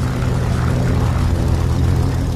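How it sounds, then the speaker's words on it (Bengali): Sound effect of many bomber airplanes flying in formation, a dense, continuous low droning roar of propeller engines at steady loud level, no voices. "অনেকগুলো প্লেনের সম্মিলিত ঘড় ঘড় আওয়াজ।"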